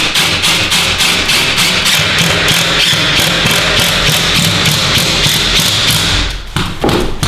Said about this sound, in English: Go ahead and proceed to drill into the wall